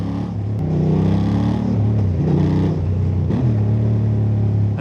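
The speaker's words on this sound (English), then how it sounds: "The engine sound is quite interesting." Honda Hornet 750 motorcycle engine running while riding: a loud, steady low rumble with shifting pitch as the revs rise and settle, heard alone without talk.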